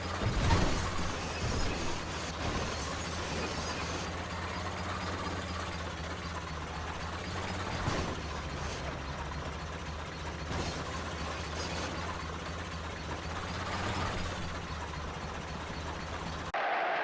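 Steady engine drone of a tractor being driven in the video game GTA 5, a continuous low rumble with a rattly, slightly metallic texture that holds fairly even throughout, with no talking.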